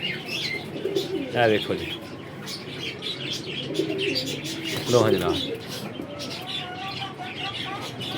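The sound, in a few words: pigeons cooing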